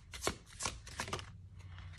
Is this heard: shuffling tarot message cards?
yes